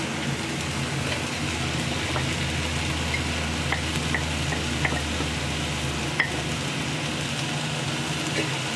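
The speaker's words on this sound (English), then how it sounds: "Stir fry it a bit, let it cook a little bit." Chopped green peppers stir-frying in a hot pan, a dense continuous sizzle like steady rain close up, broken by scattered light clicks and scrapes of the stirring utensil.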